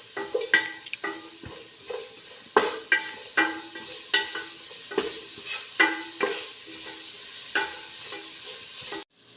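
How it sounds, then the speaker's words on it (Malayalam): Ground masala for prawn biryani is stirred in a pan, a close run of repeated scraping spatula strokes against the metal over a soft sizzle in an irregular rhythm, with no voices. "പച്ചമണം മാറുന്നവരെ ഇളക്കി കൊടുക്കുകയാണ്."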